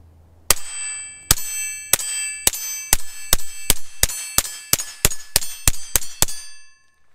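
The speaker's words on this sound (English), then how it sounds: "I'm going to start with some regular 40 grain high velocity stuff through the suppressor." A suppressed Kel-Tec P17 pistol fires 40-grain high-velocity rounds, fifteen sharp clanging shots in quick succession with ringing metallic tails, the pace speeding up toward the end.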